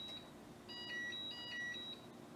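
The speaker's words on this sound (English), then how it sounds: "You heard that it beeped and it said do-do-do-do-do" Short series of quiet electronic beep tones from a Keurig Rivo espresso machine, two quick melodic bursts of rising notes over faint room hum.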